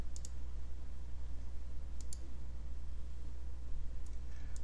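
Computer mouse clicking on a plot in plotting software, two or three quick sharp clicks spaced a couple of seconds apart, faint over a steady low hum.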